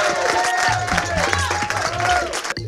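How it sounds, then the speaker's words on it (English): Participants at a weekend event get a round of applause, clapping mixed with cheering and crowd chatter, fairly close and steady over a few seconds. "big round of applause to all of you who took part this weekend"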